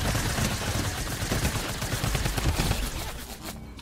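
A Tommy gun firing in Fortnite: loud, rapid automatic bursts rattle nonstop for about three seconds, then cut off abruptly, leaving a short quiet tail.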